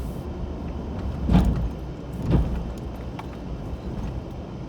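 A pickup truck plows snow along a single-lane road, heard from inside the cab as a steady low engine rumble, with two dull thumps about a second apart.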